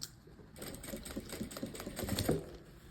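Sewing machine stitching a stretchy synthetic fabric containing rubber at a 3.5 stitch length, the fabric held back while sewing; a steady close mechanical whir with rapid needle ticks, fairly quiet.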